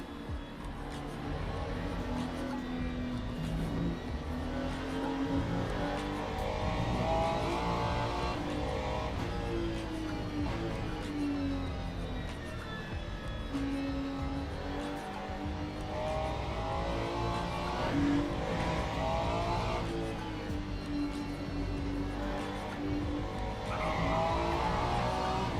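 A Ferrari race car in a community racing video game, its engine droning and shifting in pitch steadily throughout, with tyre squeal and skidding as it corners.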